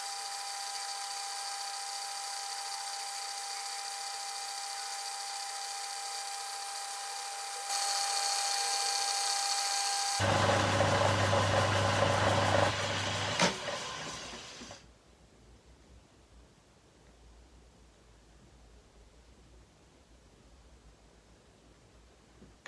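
A metal locomotive part spins while being sanded down to diameter on a small lathe, giving a steady high whine that brightens and then grinds harsher before dropping away to quiet room noise.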